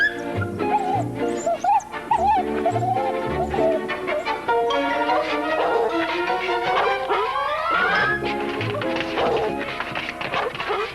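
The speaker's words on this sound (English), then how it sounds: "when are you going to feed this dog?" A dog in a 1960 comedy film yips, barks and whimpers repeatedly and loudly, close by, in high-pitched whining bursts over a steady background.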